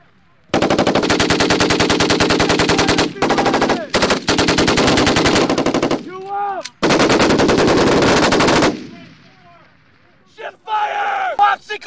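Loud, sustained bursts of machine gun fire during a military fire support coordination exercise at Pohakuloa, several long strings of rapid shots broken by short pauses, with shouted commands heard between bursts.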